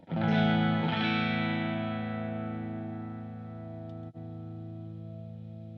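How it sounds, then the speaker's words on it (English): A single strummed electric guitar chord through a Blackstar ID Core V3 amp rings out with a lush reverb tail, slowly fading while sustaining for several seconds, mic'd in stereo. "Okay, a bit of reverb."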